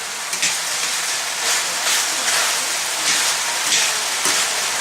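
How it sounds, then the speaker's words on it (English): Pork fried rice fries in a hot pan with a steady, close hiss of sizzling and regular scraping swells as it is stirred and tossed, with no talking. "And we're going to fry that up."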